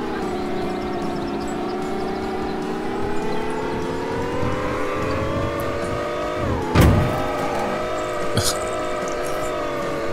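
Tractor engine revving hard at full throttle in a video-game tractor race, a steady loud drone that climbs in pitch, with a sharp crash or impact burst midway and a brief blip near the end.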